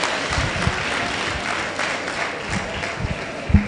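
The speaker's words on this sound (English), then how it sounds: "another round of applause for her" A crowd at an Ondo Kingdom women's honour celebration claps in a continuous, moderately loud round of applause, steady and dense from start to finish with a few sharper claps near the end.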